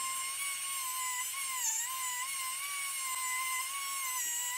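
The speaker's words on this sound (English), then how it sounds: "And then we'll go back with a polishing tool. That's a hard felt polishing wheel" A rotary tool fitted with a hard felt polishing wheel polishes engine internals, giving a steady, high-pitched whine that wavers slightly in pitch and runs unbroken and close throughout.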